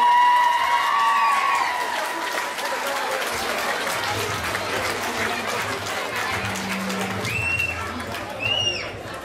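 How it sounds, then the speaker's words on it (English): A room full of people applauds Leinster Rugby players at a Tullow RFC club gathering, a steady wash of clapping mixed with crowd murmur and scattered voices, carrying on throughout before briefly swelling near the end. "give the lads a round of applause"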